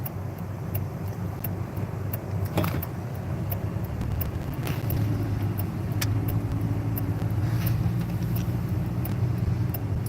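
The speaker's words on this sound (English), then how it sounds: "We are driving in a car." Inside a moving car, a steady low road rumble and engine drone run throughout, with small rattles and clicks from the cabin and no talk.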